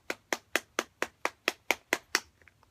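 A Marlboro 54's cigarette pack packed against a hand: ten evenly spaced, crisp taps in a steady rhythm, close and quiet, trailing off in a few softer knocks, with no talking.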